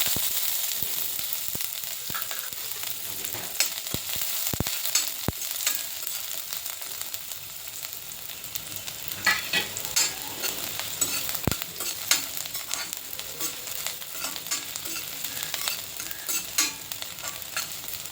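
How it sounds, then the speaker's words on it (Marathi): Onion for a Malvani fish curry tempering fries in hot oil in a kadhai, giving a continuous close sizzle with crackling pops and occasional sharp spits throughout. "कांदा फोडणीला टाकते।"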